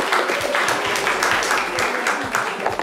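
Studio audience at a French lunchtime game show applauds a male contestant called up to play, dense steady clapping filling the whole stretch at close, loud level.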